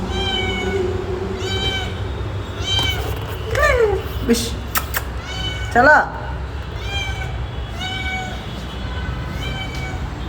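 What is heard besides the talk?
cat meowing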